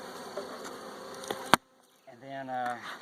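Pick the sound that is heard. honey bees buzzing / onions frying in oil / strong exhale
honey bees buzzing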